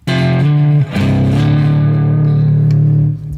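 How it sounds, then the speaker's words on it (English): Stratocaster on its neck pickup through a cranked amp overdriven with an MXR Micro Amp, loud and sustained, with a growling distorted chord held after a brief break, then fading at the end. "Right now I'm using the MXR micro amp and I'm distorting the amp naturally."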